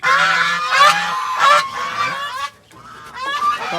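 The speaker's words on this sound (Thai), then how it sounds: "ห่านของเราเสียงดังมากครับ" Loud, overlapping honking from several geese and six newly hatched goslings on a farm in the evening, a continuous noisy chorus with rising squeaky calls, close by.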